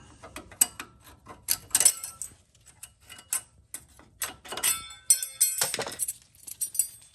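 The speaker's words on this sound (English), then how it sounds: "So just take a flathead, pry the old one up." An old front brake pad bracket on a Chevrolet Aveo is pried up with a flathead screwdriver, making sharp metallic clicks, clinks and scrapes in irregular bursts, close by with no speech.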